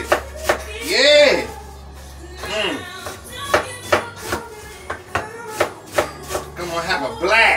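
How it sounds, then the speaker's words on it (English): A knife chops callaloo greens in rapid, irregular strokes, punchy cuts heard close up alongside a person speaking animatedly throughout. "I'm going to cut this callaloo up, wash it, and I'm going to cook it."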